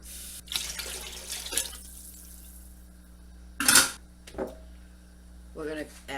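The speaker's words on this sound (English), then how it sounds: "I'm going to add 2 quarts of water." Water poured into a soup pot of turkey white bean chili, several short splashing bursts separated by pauses, close up, with some faint background voice.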